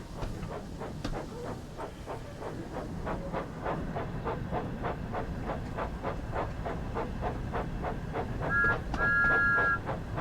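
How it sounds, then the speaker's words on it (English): A steam tank engine in the video game Train Sim World 5 chugs slowly in reverse with steady rhythmic puffs and hissing, clanking faintly, with a brief whistle-like tone near the end. "To make Thomas reverse, press and hold the controls shown here until Thomas starts moving backwards."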